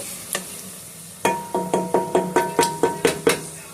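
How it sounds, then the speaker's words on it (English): Green peppers sautéing in a hot pan, with a soft sizzle under a run of about ten sharp, evenly spaced scrapes and taps as the spoon stirs them. Nothing else is heard and no one speaks. "So I'm going to turn it down so my green peppers can saute"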